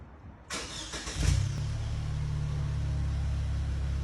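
2019 Lexus RC 300 F Sport with an APEXI catback exhaust starting up with a short burst, then settling into a steady, deep, close idle drone.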